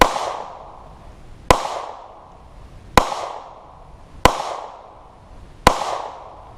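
A Glock 19 Gen 3 pistol loaded with a Magpul magazine fires five sharp, loud shots at an even pace, each ringing off briefly before the next, with no talking.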